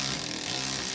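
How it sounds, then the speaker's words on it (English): An electric ratchet with a 15mm short socket loosening the upper strut tower mounting nuts on a 2021-2024 Ford Bronco 4WD, a loud, continuous buzzing motor whir up close for about a second. "Use an electric ratchet with the 15mm short socket to loosen the 3 upper strut tower mounting nuts"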